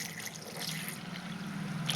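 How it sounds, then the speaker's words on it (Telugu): Cool water pours steadily into a mixer jar while making beetroot juice, a soft continuous trickle close by with no talk. "కూల్ వాటర్ అయితే వేస్తున్నానండి."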